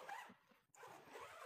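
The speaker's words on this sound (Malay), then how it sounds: "Zip dulu bahagian rain cover tu." A zipper pulled along the rain cover of a double-storey air tent during packing, one soft, quiet zipping run that pauses briefly and resumes, close by, with no talk.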